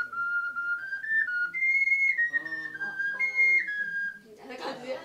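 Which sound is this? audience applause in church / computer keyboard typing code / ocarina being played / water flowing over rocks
ocarina being played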